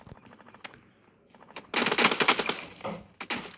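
Automatic gunfire in a PUBG Mobile team deathmatch: a single early shot, then a loud, dense burst of rapid rounds with a few more shots trailing at the end, no talk.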